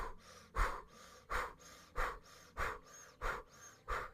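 Breath of fire in kundalini practice: seven rapid, rhythmic, O-shaped breaths pumped forcefully at a steady pace of about one every half second, close and breathy with no talking.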